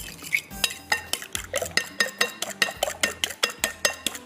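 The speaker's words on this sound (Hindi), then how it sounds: "थोड़ा सा नमक और इसको मैं ज़रा सा मिक्स कर लेती हूँ।" Black pepper, cumin and salt mixed in a bowl with a spoon, making a brisk, even run of about twenty sharp clinks and scrapes against the bowl's sides, close and clear.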